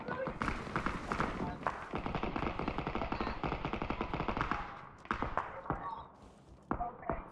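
A light machine gun in the PUBG video game fires in long rapid bursts, dense rattling shots close and loud, then shorter bursts after a brief pause.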